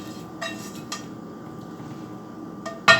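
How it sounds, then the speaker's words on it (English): Onion and cooked potatoes stirred together in a pan for a Spanish tortilla, with soft scraping and a few light clinks of utensil against the pan, ending in a sharper knock. "We'll mix them well first so that we get the onion well mixed with the potato."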